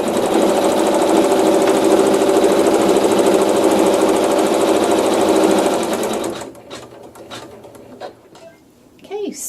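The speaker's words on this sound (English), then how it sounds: "it's going to sew a tack down stitch and also placement stitch for a second tuck" A sewing machine stitching a tack down stitch and a placement stitch for a tuck, running loud and steady for about six seconds, then stopping, leaving quiet handling noises.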